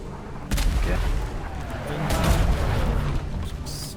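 Ship cannons firing in a DarksideRP naval battle aboard a first-rate sailing ship, heavy booming blasts at about half a second and again around two seconds, rolling rumble between, with faint voices.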